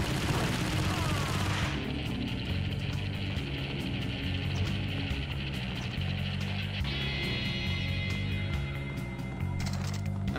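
Gunfire in the video game Max Payne, a loud dense volley at the start giving way to sustained rumbling shots and echoing impacts in an enclosed cave, with no talking.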